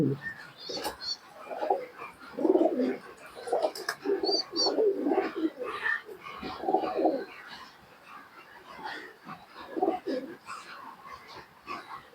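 Pet pigeons coo in repeated soft, low throaty bursts at close range, with faint chirps and some background noise between the calls.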